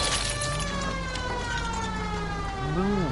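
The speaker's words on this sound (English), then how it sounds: "we can hear the siren" A police siren from the video game LA Noire wails continuously in rising and falling sweeps, loud and prominent over the steady rumble of a driving car.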